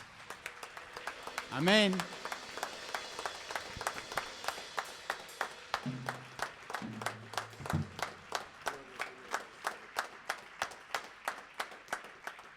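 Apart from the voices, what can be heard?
church congregation applauding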